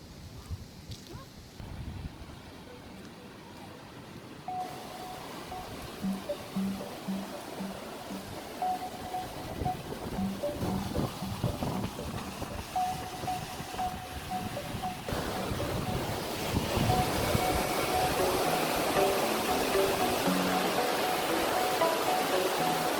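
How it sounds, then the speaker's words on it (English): A waterfall heard outdoors as a broad, steady rush of falling water that swells louder over the final third, with faint voices and a thin tonal whine in the background. "So we've made it around to the other side of the waterfall."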